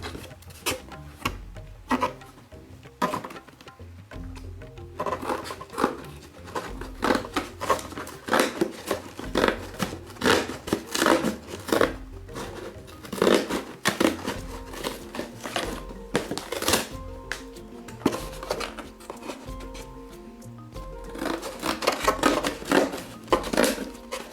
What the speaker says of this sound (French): Avec des ciseaux, je vais tout simplement découper tous les rebords.